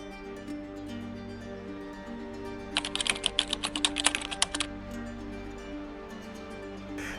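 Quick keystrokes on a computer keyboard, about a dozen crisp clicks in a short burst as account details for a Pi KYC form are entered, close over a faint room hum.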